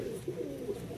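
A Madrasi long distance pigeon cooing close by, a soft low repeated coo in a short burst with faint background noise.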